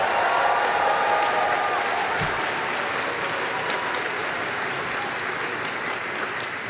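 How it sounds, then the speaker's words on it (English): An audience gives sustained applause for the graduating dental class of 2025 at a commencement ceremony, a broad, even wash of clapping that slowly fades toward the end. "round of applause to class of"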